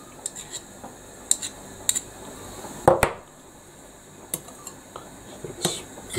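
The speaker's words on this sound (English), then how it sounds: "Stir all that together." Spaghetti being stirred together with lemon and pea pesto, a utensil giving sparse, light metallic clinks and taps against the pot or bowl, with a louder cluster of knocks midway over a quiet kitchen background.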